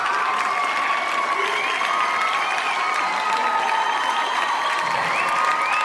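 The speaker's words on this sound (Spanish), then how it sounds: "Muchas gracias por ese aplauso." Sustained audience applause and cheering at a talent show in Ecuador, a dense, even wash of clapping with scattered whoops and crowd voices throughout.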